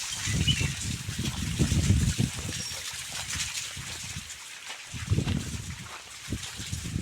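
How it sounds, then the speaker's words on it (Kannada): Water pours down a rock face about 150 feet high, a steady trickling and splashing rush heard from close by, swelling and easing in waves with outdoor noise mixed in. "ಯಾವ ಥರ ಬಂಡೆ ಮೇಲಿಂದ ನೀರು ಹರಿತಾ ಇದೆ"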